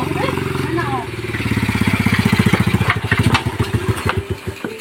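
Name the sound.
motorcycle engine running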